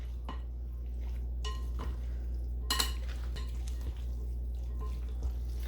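Utensil mixing wagon wheel pasta salad with Italian dressing in a bowl, soft clinks and wet stirring sounds scattered over a steady low hum, close and fairly quiet.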